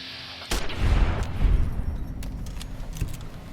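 Gunfire in Fallout New Vegas, a burst of sharp shots starting around half a second in, then rolling, rumbling reports that fade into a quieter, echoing tail with a couple of faint pops later.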